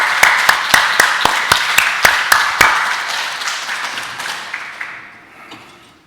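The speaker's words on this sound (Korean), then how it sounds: "우리 송기수 목사님, 그리고 기도의 어머니 되신 사모님 두 분을 위해서 우리 박수 한번 올려드리겠습니다" A round of clapping from a church congregation at a Sunday service, sharp and lively at first, then thinning out and fading away over several seconds.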